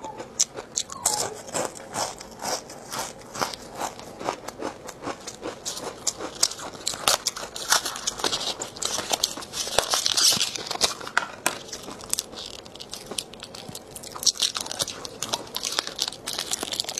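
Someone chews crispy, spicy seafood up close, with dense, continuous crunching and biting. The crackly crunches come in a steady run for the whole stretch, with no talking.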